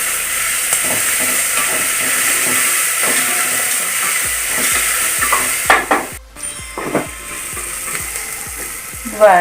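Ginger and garlic sauté in a pan for vegetable biryani, giving a loud, continuous sizzle. Rhythmic stirring and scraping of the pan runs through it, with a brief pause near the end.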